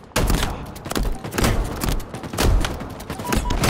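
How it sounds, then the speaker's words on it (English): Continuous heavy gunfire in Halo Infinite, a loud rolling barrage of rapid shots and thumping impacts that starts abruptly and keeps going with uneven bursts, no talk. "Bro, I'm getting shot."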